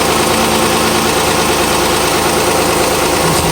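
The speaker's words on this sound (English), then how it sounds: "I know there's a knocking sound in the engine. I know it's a bad lifter." A 2009 Dodge Journey SXT 3.5 engine with a bad lifter idles loudly and steadily up close, a continuous mechanical drone that may carry a faint knock, with no talking.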